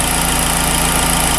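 A turbocharged 2.4L engine swapped into a Saturn Sky idles steadily at close range, a constant low rumble with a fine mechanical pulse and broad hiss, no voices.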